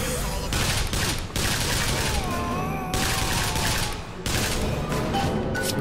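Heavy gunfire from a powerful gun in Bioshock Infinite: Burial at Sea, dense broadband bursts of fusillade filling most of the clip with brief gaps, loud and close, with game voices faintly underneath.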